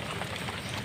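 Heavy rain pours down outdoors in a dense, continuous hiss of drops, steady and fairly loud across the whole brief stretch, with no talking.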